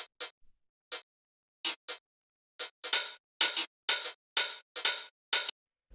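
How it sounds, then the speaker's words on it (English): A closed hi-hat plays a loose, syncopated pattern of short, crisp ticks, sparse at first and then falling into a steadier run of brighter, slightly longer hits in a classic Detroit house groove. "the last hi-hat we have here is this closed hi-hat"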